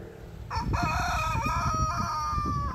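A rooster crows loudly nearby, one drawn-out call over low rustling and clucking from other chickens.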